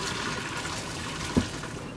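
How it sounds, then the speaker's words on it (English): Water from a pot of boiled potatoes poured off and draining in a steady rushing trickle, with a brief clunk of the pot partway through; no talk. "Drain the water."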